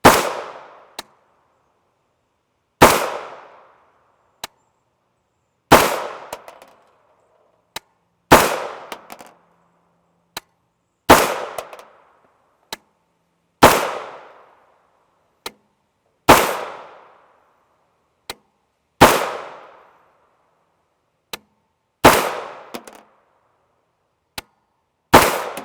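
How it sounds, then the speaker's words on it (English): About ten unsuppressed gunshots from an HK 4.6x30mm firearm loaded with Hornady 38gr V-Max rounds, each a sharp loud crack with a quick decaying tail, fired at a steady pace roughly every two to three seconds. "I figured we'd run 10 shots unsuppressed"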